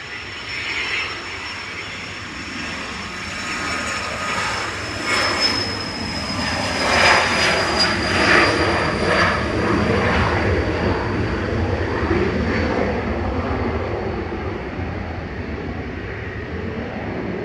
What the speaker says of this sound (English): Right, little jet, what have you got for us? Here it goes, Learjet 45.